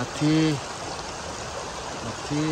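Small mountain stream crossed on foot along a trekking trail, with steady broadband rushing and trickling water filling the scene and a voice speaking briefly over it near the start and end.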